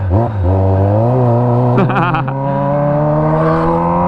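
A Kawasaki ZX25R motorcycle fitted with a Toce exhaust revs loudly and close by in a residential area, its high-pitched four-cylinder whine climbing and falling through a couple of quick throttle blips.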